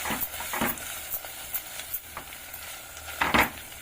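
Billala pulusu, a traditional tamarind curry seasoned with salt and chilli powder, simmering in a pan, giving a soft steady bubbling sizzle with a few scraping stirs and a louder stir near the end.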